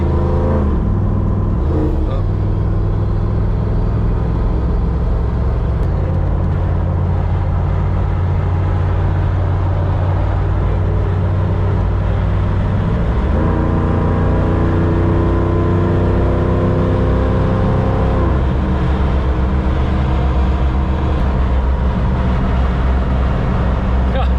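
An LS-swapped Jeep Wrangler with ball joint deletes cruises on a highway, its engine and road noise forming a loud, continuous drone with a few shifts in pitch as it changes speed.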